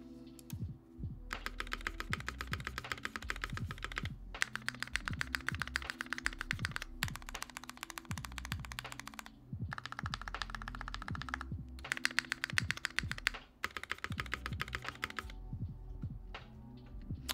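Typing on an NK65EE mechanical keyboard with different switches, a fast run of close, crisp clacky keystrokes in bursts separated by brief pauses, with no talking.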